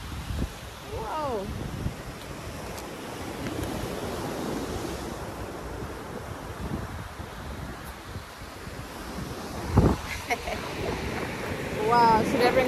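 Wind and ocean surf at a beach with boats nearby, a steady broad roar of waves and gusting wind buffeting the microphone, with brief voices and a few louder bursts near the end.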